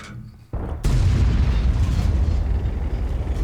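A French Tier 9 artillery gun fires in World of Tanks: after a short quiet stretch, a soft thump leads into a loud, sharp boom that rolls into a sustained, heavy rumble.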